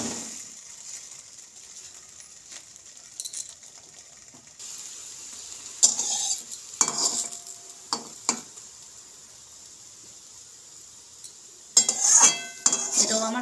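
Dal puri frying in oil in a village-style wok gives a faint steady sizzle, broken by sporadic clinks and clatters of utensils against the pan, with no talking.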